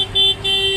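A car horn sounds in a city traffic jam on Qizilko'prik roads, two short, loud, close honks over a low engine rumble.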